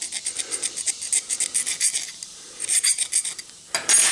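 A burr is filed off the cut end of a steel brake line on a 1931 Chevy rat rod, a close, bright rhythmic rasping of repeated short strokes that briefly pauses and resumes, with no voices.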